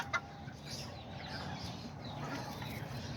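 Small silkie hens give soft, faint clucks in a quiet pen, a few low calls scattered over a steady background hush with no voices.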